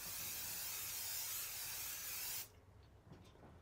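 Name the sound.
spray glue squirted onto quilt for basting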